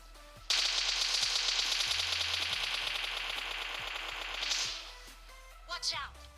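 Sustained rapid automatic gunfire during a PUBG firefight, a dense continuous burst lasting several seconds before cutting off, followed by a couple of short scattered bursts at the end.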